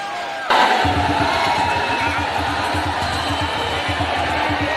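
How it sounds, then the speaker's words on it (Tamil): A large crowd of protesters at Jantar Mantar in Delhi cheers and shouts in celebration, a loud, dense roar of many voices that begins abruptly and holds steady, with rhythmic chanting or clapping underneath. "டெல்லி ஜந்தர் மந்தரில் கூடியுள்ள கரப்பான்பூச்சி கட்சியினர் ஆரவாரம் செய்து"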